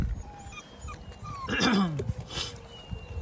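Eight-week-old Boerboel mastiff hybrid puppies whimper and yip close by, thin rising whines that swell into a louder cluster in the middle of the short clip.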